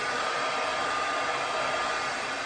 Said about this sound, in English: if I pull the hairdryer away